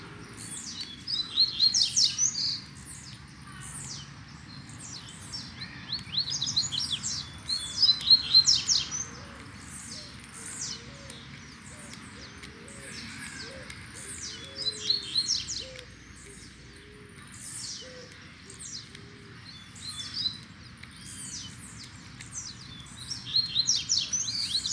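Coleiro seedeaters chirping and singing in short bursts of high trills and tweets, close and clear, repeating every few seconds over quiet background.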